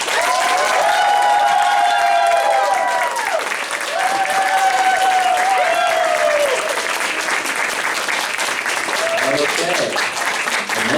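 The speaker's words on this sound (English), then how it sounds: "give them a big round of applause as I introduce them one by one" Audience at a magic and dance show applauding stage volunteers, a sustained round of clapping with a voice speaking over it at intervals.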